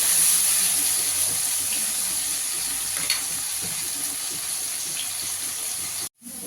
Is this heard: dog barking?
no